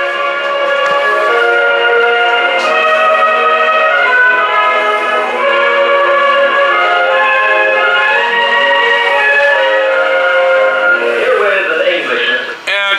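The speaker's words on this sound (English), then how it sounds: "Now you can hear the radio playing in the background." Radio broadcast playing continuously through a Teac CD-P650 USB/CD player stereo, steady and fairly loud throughout, with dense musical tones and voices from the broadcast, ending with a brief shift near the close.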